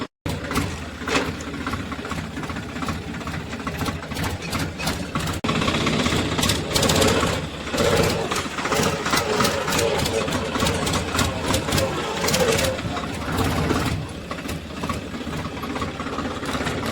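A tractor engine idles during a ploughing job, close and loud, with a steady diesel rumble and faint mechanical clatter running throughout.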